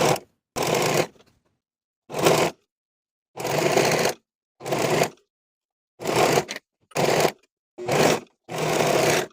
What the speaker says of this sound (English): I'm going to be using my serger.